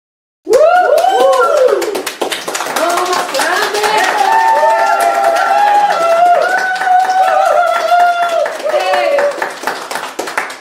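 An audience at a Hindi-language church ministry session claps together, with loud cheering and whooping voices mixed into steady applause that starts abruptly and continues to the end.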